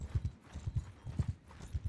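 Horse hooves clip-clop at a steady trotting rhythm in Mount and Blade Bannerlord, close and distinct paired thuds repeating throughout, with no voices over them.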